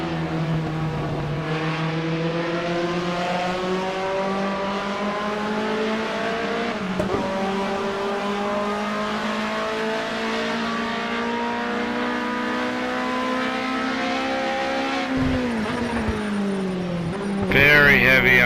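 A BMW 2002 StanceWorks Edition race car at Donington GP in the video game Project CARS, braking through a chicane: a loud, steady engine drone sinks in pitch, then shifts abruptly near the end.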